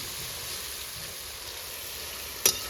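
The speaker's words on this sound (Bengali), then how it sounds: "আমি লো ফ্লেমে রান্নাটা করছি" Mutton simmers in fat in a dry wok over a low flame with ginger, garlic and fried onion, giving a soft, even sizzle throughout and one brief sharp click near the end.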